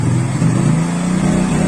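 A Yamaha NMAX scooter engine, idling and then given throttle with no load, rises from a steady hum into a loud, sustained, higher-pitched rev, close up and continuous with no talking.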